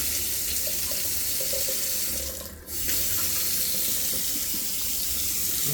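Water gushing steadily from a newly installed tap into a sink, a loud constant rushing stream with one brief dip where the flow is interrupted, no voices.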